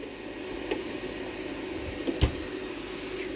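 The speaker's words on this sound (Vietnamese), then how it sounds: "quạt này khi có tải nó sẽ thổi hút gió ra ngoài" The cooling fan of a 120A, PV230V MPPT solar charge controller under load gives a steady, soft whir, with a few faint knocks partway through.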